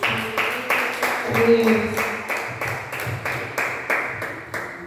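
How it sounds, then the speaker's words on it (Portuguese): A church congregation claps together in a steady, rhythmic beat of worship applause, with voices singing or speaking over the clapping throughout. "Eu gostaria que você desse um forte aplauso, né?"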